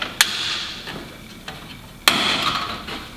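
A hammer strikes a chisel while cutting a notch during window installation, giving a few sharp, separated taps with short quiet gaps and a brief ringing tail after the louder blows.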